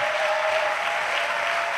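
A church congregation at a missionaries' annual retreat in Côte d'Ivoire applauds in a steady, dense wash of clapping, loud and continuous throughout with a faint sustained tone underneath.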